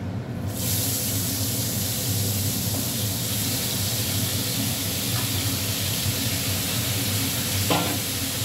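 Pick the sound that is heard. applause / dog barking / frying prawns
frying prawns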